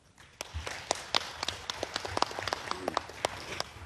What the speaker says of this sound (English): Let's give ourselves a warm round of applause.